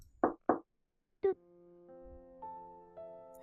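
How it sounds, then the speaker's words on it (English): Two quick, close knocks on a door, crisp and separate, followed by silence and then a held musical tone that swells gradually. "Hesitant, I stand in front of Mina's door for a while, but then I knock."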